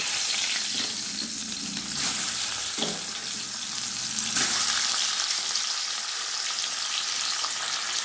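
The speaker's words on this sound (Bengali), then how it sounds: "মাছগুলো ভাজা হচ্ছে" Small charapona fish frying in hot oil in a kadai on a gas stove, giving a steady close sizzle with a few louder crackling bursts and no talk.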